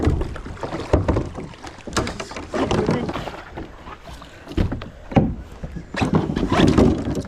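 A fishing boat scrapes and drags through shallow river water with sloshing, splashing and bumping, rising and falling continuously while people talk intermittently nearby.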